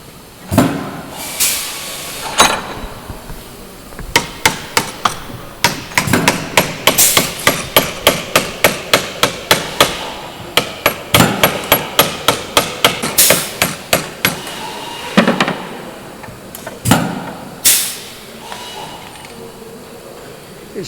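A hammer strikes metal over and over on a turret deflector during restoration of the Lancaster bomber NX611, sharp ringing blows in a fast steady run, with a few heavier isolated hits before and after.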